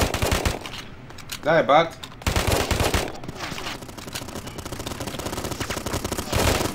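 Heavy machine gun fire in a first-person shooter video game, an HMG24 chattering in dense bursts across most of the stretch, close and loud, with a short pause and a brief sung or shouted voice and some talk over it.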